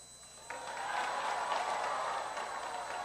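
A standing ovation breaks out at a Barisan Nasional convention in Sabah, with a large crowd's applause swelling suddenly and holding as a dense, steady roar of clapping.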